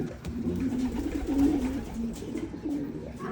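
Pigeons coo repeatedly in a low, throaty murmur at a loft, several overlapping calls rolling close by against a light background clatter.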